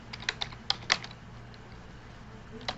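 A computer keyboard is typed on during an algebra function notation lesson, with a short run of crisp, close keystrokes early on, a pause, then one last tap.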